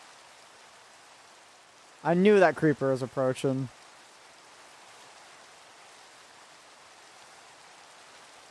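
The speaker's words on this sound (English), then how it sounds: "Oh, get me out of the rain!" Steady hissing rain in the Minecraft video game, a soft continuous patter throughout, briefly under a voice speaking for a couple of seconds.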